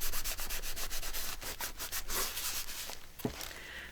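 A hand rubs down the cover of a Retro Men journal in a close, steady series of brisk scratchy strokes, rhythmic and dry, easing off near the end.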